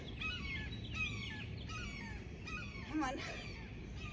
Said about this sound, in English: That sounds like a seagull.